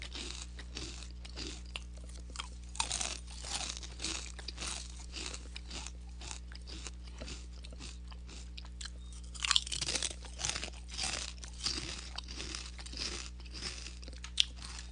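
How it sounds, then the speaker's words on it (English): Crunchy snack being chewed up close, with repeated crisp crunching bites in an irregular rhythm over a steady low hum, no talking. "Nothing like a snack."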